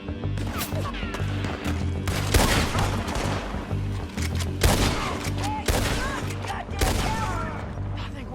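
Bursts of gunfire crack repeatedly during a shootout in the video game Red Dead Redemption 2, loud volleys recurring every couple of seconds under a rumbling game score, with brief speech.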